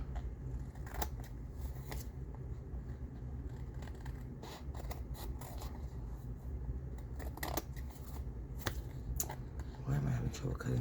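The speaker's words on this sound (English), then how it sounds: "let me cut out this excess here" Scissors trim excess paper while making ephemera for a steampunk folio craft project, giving irregular sharp snips and paper crackles over a low background rumble.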